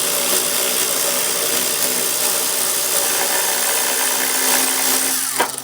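Power tool, an impact gun or drill, spins steadily and loudly to remove upper A-arm bolts from a car, a continuous buzzing whine close by that cuts off abruptly at the end.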